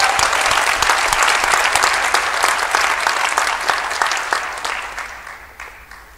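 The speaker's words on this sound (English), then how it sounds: "I think we should also give a big hand to Gibbs for this outstanding" Sustained applause from a large audience at a graduation ceremony, dense clapping that holds steady then gradually tapers off toward the end.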